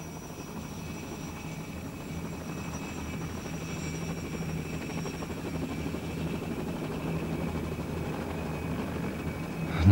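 A helicopter rotor in autorotation sounds as a steady, moderately loud whirring drone with a low thumping beat that swells slightly toward the end, with no voices.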